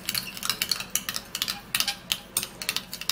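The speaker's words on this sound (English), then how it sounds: "and then we're just going to give it a stir" Honey being stirred into a tomato skin remedy, a spoon scraping and clinking against the bowl in a quick, uneven series of light taps close up, with no talking.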